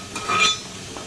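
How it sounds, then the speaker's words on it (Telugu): A spoon clinks and scrapes in a metal pan while mixing spices and coriander powder for a chicken gravy curry, a few close, bright metallic taps clustered in a brief burst, then quiet. "వీటిని అన్నిటిని ఒకసారి బాగా మంచిగా కలుపుకొని"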